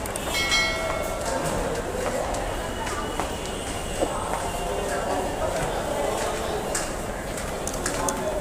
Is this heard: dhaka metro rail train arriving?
yes